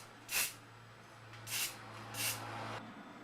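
Three short bursts of hissing spray paint from a can onto a Honda CT125 motorcycle, each about a quarter to half second, with a faint steady hum underneath; quiet and close.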